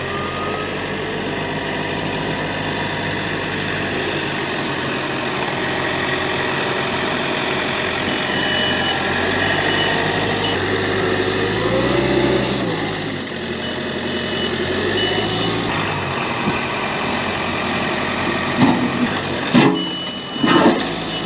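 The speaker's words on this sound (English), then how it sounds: "Look how good he's getting with the tractor." A tractor engine runs steadily at a fairly loud level on an off-grid abandoned airport site, a continuous low rumble with shifts in pitch midway and a few knocks near the end, with no talk.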